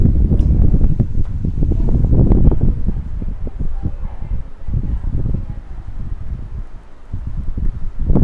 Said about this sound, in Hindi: ये भी साउंड करता है पंखा